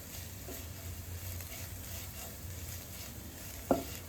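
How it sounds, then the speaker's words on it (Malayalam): Kashmiri chili, coriander, turmeric and garam masala powders frying in a pan for egg roast, a faint low sizzle with soft stirring and one sharp utensil tap near the end. "2 ടീസ്പൂൺ കാശ്മീരി മുളക് പൊടി, 2 ടീസ്പൂൺ മല്ലിപ്പൊടി, 1/4 ടീസ്പൂണിൻ്റെ പകുതി മഞ്ഞൾപ്പൊടി, 1/2 ടീസ്പൂൺ ഗരം മസാല ഇതെല്ലാം ചേർത്ത് ഇളക്കി കൊടുക്കണം."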